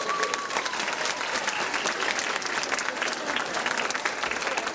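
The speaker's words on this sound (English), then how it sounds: "give Mr. Torres, Save Latin America, and this young lady a round of applause right now" A school audience in Passaic, New Jersey applauds, the sustained dense clapping of many hands filling the room evenly for several seconds, with no talk over it.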